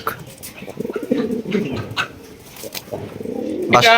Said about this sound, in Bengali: এখানে দেখেন কত সুন্দর এক জোড়া কবুতর মার্শাল্লাহ দেখেন অস্থির ডাক